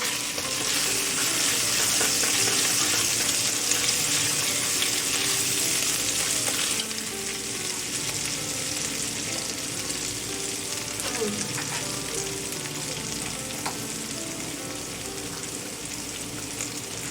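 Spices cooking in a hot pan for a cabbage (band gobi) dish: a steady, close frying hiss that is louder for the first seven seconds, then settles into a softer sizzle with light stirring scrapes, and no speech.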